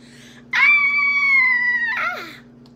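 A girl's high, sustained scream, acted out by a voice reading a children's story, rings out loud and close for about a second and a half before tailing off, over a steady low hum.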